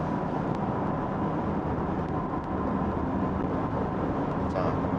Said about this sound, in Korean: 가속 페달을 밟아서 속도를 조금 더 내봅니다.